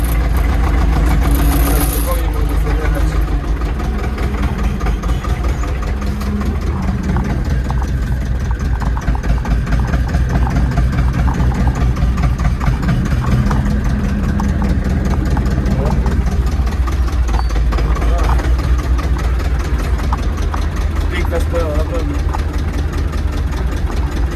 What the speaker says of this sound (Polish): naprawdę piękna sprawa, że się można wjechać do stajni traktorem